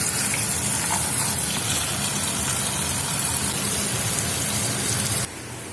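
Suruhan leaves being washed under running water, a loud, steady gushing splash that carries on unbroken for about five seconds before cutting off to quieter background noise.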